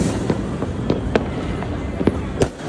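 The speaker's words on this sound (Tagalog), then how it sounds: "ito nga pagsapit ng alas 12 ng gabi ay isa-isa na nga rin naglalabasan ng mga fireworks" Midnight fireworks for New Year 2024 heard from a rooftop: a scatter of sharp bangs and crackles at irregular intervals, some near and loud, others distant, over a constant background roar.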